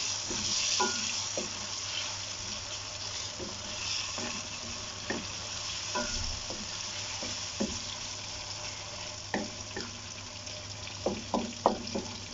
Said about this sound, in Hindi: अब मैं इसमें टमाटर और हरी मिर्चें डालूंगी। और अच्छे तरीके से मिक्स कर लूंगी।